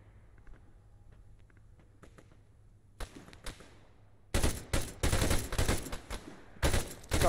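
Arma 3 gunfire in a hilltop firefight: scattered distant single shots at first, then loud sustained bursts of rapid automatic fire crackling in heavy clusters near the end.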